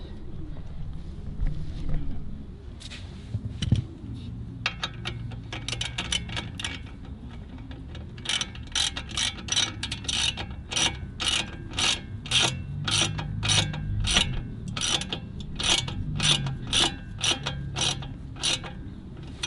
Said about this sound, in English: tighten this bolt that holds everything in place so it doesn't slide out